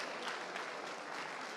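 Audience applause for a speaker at a cannabis regulation conference in Mexico, a steady dense wash of clapping from a crowd, loud and continuous throughout with no voices over it.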